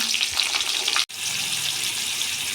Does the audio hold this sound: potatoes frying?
yes